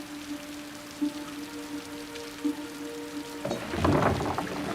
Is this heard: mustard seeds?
no